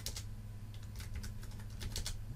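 Rapid keystrokes on a computer keyboard as a comment is typed, a steady close clatter of taps with no voice over it.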